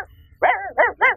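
A person imitates a puppy's bark with three short, yappy voiced barks in quick succession, loud and close, after a brief quiet lead-in.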